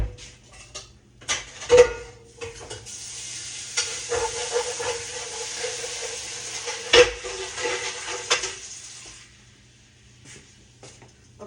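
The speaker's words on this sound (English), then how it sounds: "Let me go over here and put my pan in the sink." Pan scrubbed out under running water in a kitchen sink after cooking sweet potato fries and pork chops, a hissing rush of water broken by a few sharp metallic knocks before fading to quiet.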